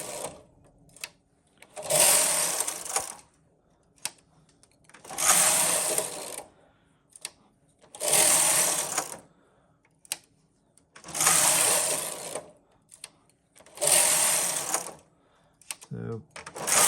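A Knitmaster Silver Reed chunky knitting machine working tuck stitch rows, its carriage sweeping back and forth in five long whooshing, rattling passes with short quiet gaps between them.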